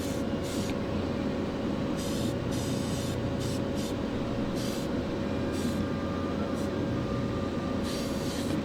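Spray paint coats the masked wheel rims of a model car in green, heard as repeated short bursts of hiss over a constant low background hum.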